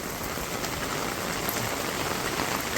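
Steady rain falls in a village, a dense, even hiss of drops on surfaces that carries on unbroken and fairly loud, with no voices.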